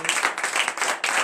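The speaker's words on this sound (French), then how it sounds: "Donnez encore de l'acclamation à notre Seigneur" A church congregation claps and acclaims during a morning prayer service in Benin, a dense, steady wash of applause lasting just over a second with no pauses.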